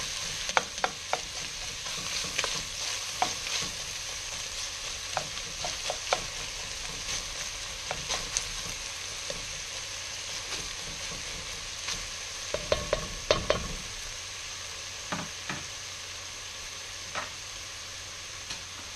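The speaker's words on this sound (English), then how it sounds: "we'll just sweat these until they've softened slightly" Vegetables for cauliflower soup sweat gently in a pot without browning. A low sizzle runs throughout, broken by frequent spoon stirs and scrapes, with a brief clatter of utensils partway through.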